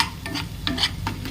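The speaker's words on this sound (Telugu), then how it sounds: "గ్రీన్ పీస్ యాడ్ చేసేసుకొని బాగా కలుపుకోవాలి" Green peas being stirred into a frying mixture in a pan: a few quick scraping strokes over a soft sizzle, close and clear, no voices.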